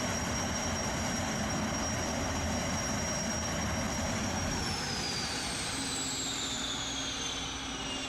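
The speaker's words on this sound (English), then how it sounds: "Quite impressive that they use a jet engine to propel this" A Jetfoil passenger boat driven by a jet engine makes a steady, loud, airplane-like roar with a high whine that glides downward partway through.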